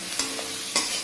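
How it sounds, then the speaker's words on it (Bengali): Spices and chopped tomato fry in a pan with a steady sizzle, and a utensil scrapes through them in two quick stirring strokes. "মশলা ভাজা হয়ে গেছে।"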